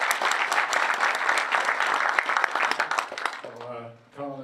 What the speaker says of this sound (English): please give a round of applause for Richard